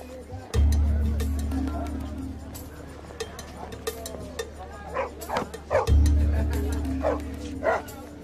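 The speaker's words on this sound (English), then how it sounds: "Village dogs." Village mongrel dogs in Bangladesh's Sundarbans give a few short barks and yips partway through, over a low motor rumble that swells at the start and again near the end.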